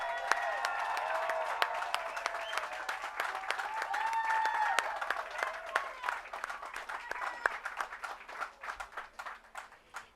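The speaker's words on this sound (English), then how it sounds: "Let's give him a big round of applause." An audience at a Hollywood Walk of Fame ceremony for Teddy Riley breaks into sustained applause with scattered cheers that runs steadily for several seconds, then thins into fewer individual claps near the end.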